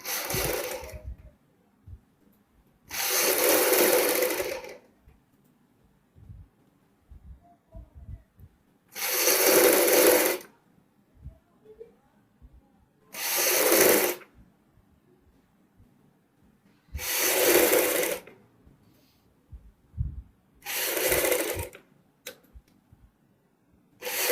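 A sewing machine runs a stitching seam on a suit made over from an old embroidered one, starting and stopping in about six loud, even bursts of a few seconds each, with quiet pauses between and no talking.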